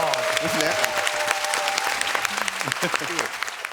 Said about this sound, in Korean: 다시 한번 큰 박수 보내주십니다.